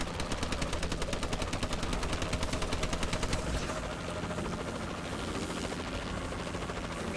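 Rapid automatic gunfire from a Warbird gunship in a Call of Duty–style shooter, a dense rattling burst for about three and a half seconds, then a steady droning aircraft rumble that carries on to the end.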